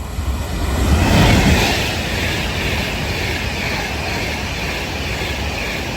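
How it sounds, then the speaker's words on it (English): A Class 390 Pendolino electric train bound for Chester rushes past at Watford Junction on the West Coast Main Line, a loud, broad roar that swells and then holds steady. "getting ready to pass by now is going to be another Class 390 Pendolino"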